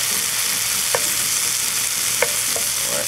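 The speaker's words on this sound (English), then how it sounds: "I'm going to let this saute another minute or so" Seafood stuffing bound with Creole mustard sizzles steadily in a pan, a constant frying hiss with a few light scrapes and clicks of a stirring utensil.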